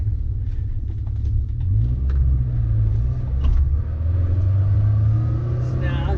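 Manual-transmission car driving steadily, a loud, continuous low engine rumble with rising and falling pitch as it moves through gear changes, heard from inside the cabin with faint background noise.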